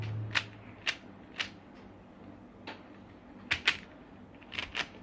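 Plastic pieces of a Puppet2 Rubik cube clicking as they are turned, a handful of sharp isolated ticks spread irregularly over a quiet background, close and fairly faint.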